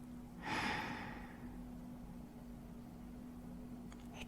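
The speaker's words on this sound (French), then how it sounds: "Maintenant, inspire profondément." A single deep breath drawn in during a guided breathing meditation, a soft airy rush swelling near the start and then fading into a quiet, steady background hum.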